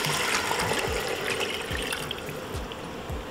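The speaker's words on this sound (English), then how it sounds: "We are adding in 2 cups water." Two cups of water are poured into an Instant Pot holding Haitian conch stew, giving a steady splashing pour with repeated close, bubbling glugs and no talking.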